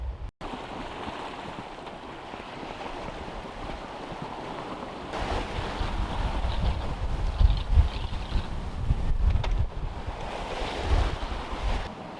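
At sea on a sailboat heading from mainland Europe to Porto Santo, waves and surf rush against the hull under constant roaring wind and microphone buffeting. The sound swells and grows louder partway through, with no voices.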